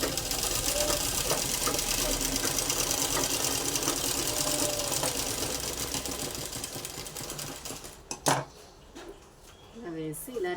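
A sewing machine stitching a crop top, its steady fast mechanical whir running continuously and close for most of the clip, then stopping near the end as brief handling clatter follows.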